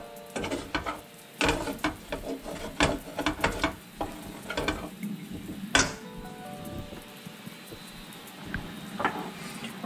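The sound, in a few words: whisking carbonara sauce with eggs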